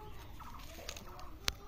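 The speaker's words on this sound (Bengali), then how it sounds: "এটা হচ্ছে সোনালী মুরগি।" Sonali chickens give faint, scattered clucks, with one brief sharp call near the end, all quiet and a little distant.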